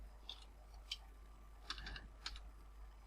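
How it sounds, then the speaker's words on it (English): Typing on a computer keyboard while entering text into a PowerPoint text box: a few sparse, distinct key clicks spaced unevenly, close and quiet, with no talk. "I select my text box and I type something here"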